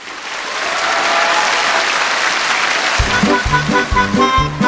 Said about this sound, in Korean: 다음 팀도 큰 박수로 맞이해 주시기 바랍니다